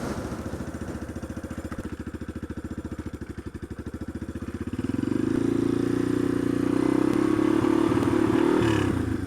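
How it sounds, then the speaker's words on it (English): Yamaha Warrior four-wheeler ATV engine running close by, a steady throbbing putter at low revs that swells into a louder, sustained rev midway and holds, with faint clatter from the machine. "we're going to hop on the four-wheeler, the Warrior"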